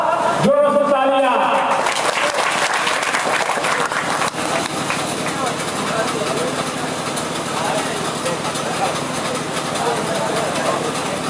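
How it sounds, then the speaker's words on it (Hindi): Loud, sustained applause from an audience welcoming a guest at a gathering, a dense continuous wash of clapping that swells after a brief opening voice and runs steadily to the end. "जोरों से तालियां"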